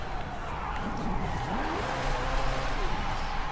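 A car in the racing game Forza Horizon 5 skids as its rear end breaks loose, a rising and falling tire squeal over a steady engine drone, continuous and moderately loud.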